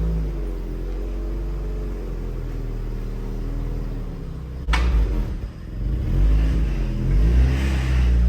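A Mark III convertible donor car with a 3.5 engine rolls into a barn, its low engine rumble steady throughout with a sharp knock midway and a slightly louder rise near the end.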